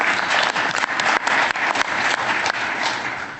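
An audience at a northern Ontario summit breaks into dense, sustained applause, loud and even throughout with no speech over it.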